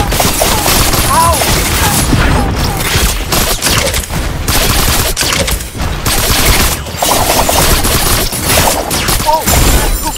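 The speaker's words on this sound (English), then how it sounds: "Who fired on us?" Dense, loud bursts of gunfire in the Super Mecha Champions video game, rapid shots and booms overlapping almost continuously, with excited voices shouting over them.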